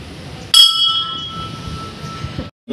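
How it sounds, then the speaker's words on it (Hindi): A metal bell at an old Hindu temple near a village market is struck once, giving a sharp bright clang whose ringing tone sustains and slowly fades over a low murmur of background noise. "बजाओ घंटी, बजाओ।"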